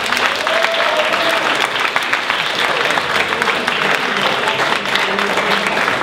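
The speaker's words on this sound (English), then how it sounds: "big round of applause for everyone that pitched an idea tonight" A room full of people at a Startup Weekend pitch night breaks into a steady, enthusiastic round of applause that holds at an even level throughout, with a few voices faintly mixed in.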